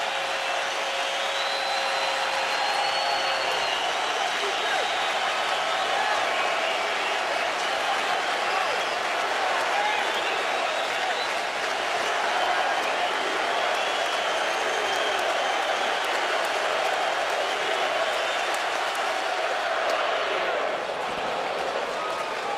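A baseball stadium crowd at a 2007 ALDS playoff game between the Indians and Yankees keeps up a sustained, broad roar of cheering and chatter, with a broadcast commentator talking over it.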